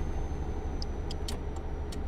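Truck engine in Euro Truck Simulator 2 driving at a steady, continuous low drone with faint ticking clicks above it, alone with no talk.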